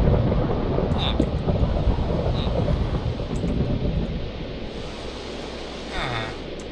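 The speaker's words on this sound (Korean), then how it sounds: "어 천둥이다" Thunder in Minecraft rumbles as a long, loud roll under steady rain-like noise, fading slightly and then swelling again near the end, with brief high chirps on top.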